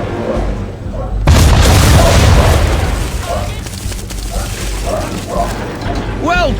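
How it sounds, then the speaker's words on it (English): Heavy broadside of ship's cannons in Assassin's Creed 3: a loud booming blast lasting several seconds, with mechanical clatter and rumble trailing off, under a steady background of sea and game ambience. "Bring her round broadside, and when all guns are on target, call fire. Round shot for a start! Fire!"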